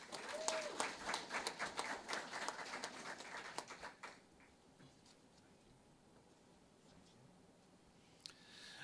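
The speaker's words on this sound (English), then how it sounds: "So let's give these two a round of applause." Applause from an audience at a career and technical education letter-of-intent signing day ceremony: scattered clapping for about four seconds, fading into quiet room tone, with a brief sharp sound near the end.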